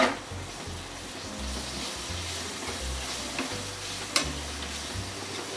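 Tomato and onion fry together in a pan for a masala dosa filling, producing a soft, continuous sizzle with occasional stirring clicks and a low rhythmic hum underneath, no one speaking.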